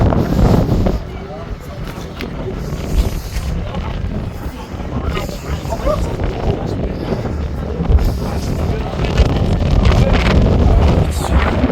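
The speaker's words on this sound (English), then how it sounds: "It's really windy." Strong wind gusts across the high observation deck of the Strat Tower in Las Vegas, buffeting the microphone with loud rumbling surges and rising and falling in force. Voices talk under the wind.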